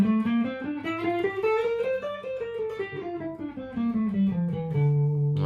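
Guitar runs up and back down a D natural minor scale, single clear notes one after another with a slightly effected tone, close and alone, ending on a held low note.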